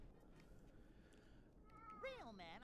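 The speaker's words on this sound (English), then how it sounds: "Oh, my cat is vocal today." A pet cat lets out a rising, drawn-out meow at the end, close and clear, over a noisy indoor background with a faint voice-like murmur before it.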